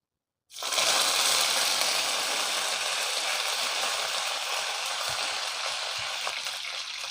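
Fresh curry leaves hit hot coconut oil and burst into a loud, sudden sizzle that settles into a steady, close crackling hiss before sardines go in for pickle.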